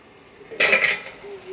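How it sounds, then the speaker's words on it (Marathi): A metal lid is set down onto a pan of chopped spinach, making one brief clatter and rattle of pot and lid up close, which settles quickly into quiet. "ह्याच्यावरती झाकण लावायचं"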